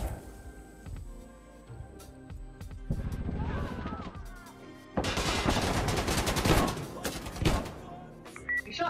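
Gunfire rings out in Insurgency Sandstorm's Operation Glasshouse prison map: scattered single shots early, then loud, dense bursts of rapid automatic fire packed together in the second half, sharp and close.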